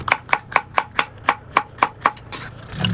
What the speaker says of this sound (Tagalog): tatapusin ko lang itong hinihiwa kong ampalaya